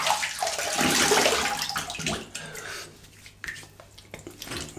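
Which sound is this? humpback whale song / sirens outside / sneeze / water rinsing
water rinsing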